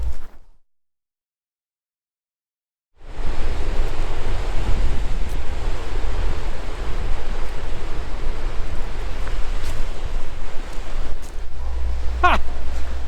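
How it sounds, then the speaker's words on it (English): A waterfall roars in a continuous loud wash of broadband noise after a short initial silence, with some wind buffeting at the microphone and no speech. "I'm going to try and find this bloody waterfall"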